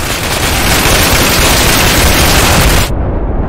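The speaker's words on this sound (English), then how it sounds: "The machine guns." Machine guns fire continuously in the shooter game Insurgency, a dense, loud, unbroken roar of automatic gunfire that cuts off abruptly near the end.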